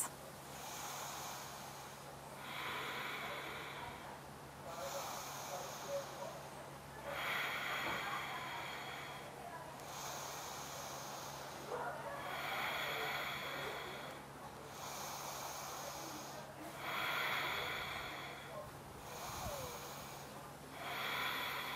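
Slow, deep yoga breaths during an eagle pose practice, about five long airy inhales and exhales in a steady rhythm, close and soft, with a low hum underneath.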